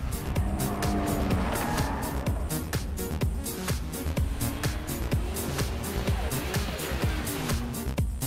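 A Nissan Skyline R34 NISMO with titanium exhaust driven hard on a tight mountain road, engine roaring loudly and continuously with rapid revving and tire squeal, dense and close throughout.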